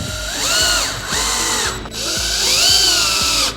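Power drill driving screws into a cabinet slide bracket, two close, loud bursts of whining motor that rise and settle, with a brief stop between them and no talking.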